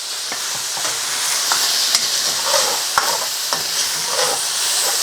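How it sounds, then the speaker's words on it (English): Chicken and baby sweet corn stir-frying in a hot pan give a steady, loud sizzle, broken by a few sharp clacks and scrapes as the food is tossed. No one speaks. "And we can start to fry that off. Give it a good toss."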